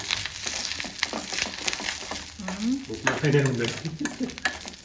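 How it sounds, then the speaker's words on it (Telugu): Food frying slowly over a low flame, with a moderate sizzle and occasional stirring clatter close by, plus brief faint voice sounds mixed in. "ఫ్రై అవుద్ది ఎర్రగా అవ్వాలి స్లోగా కుక్ చేయాలి సిమ్లో పెట్టి"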